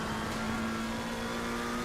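A race car engine held at high revs in a sim racing game, a steady, loud droning whine that runs without a break for the whole stretch, with no talking.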